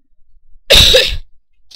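A single loud, close cough from a man who is ill, one short harsh burst with silence around it.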